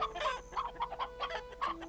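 Chickens on a farm in the video game Black Desert Online cluck in short repeated bursts over a steady background hum, close and fairly quiet.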